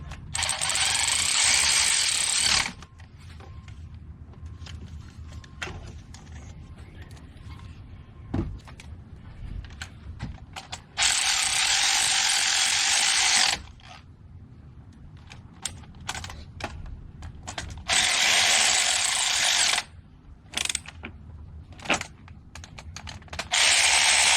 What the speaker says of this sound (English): Got the extension on my ratchet, so we'll go ahead and tighten this one up first.